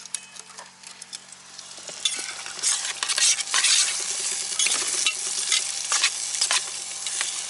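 Food sizzling and frying in a pan while being stirred, a steady bright crackle with scraping stirring strokes that grow louder partway through, close, no talk.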